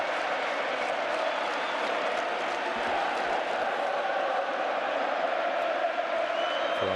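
Inter fans cheering in a football stadium at a Coppa Italia final against Roma, a sparse crowd of about 15,000 giving a steady wash of cheers and applause, distant and continuous.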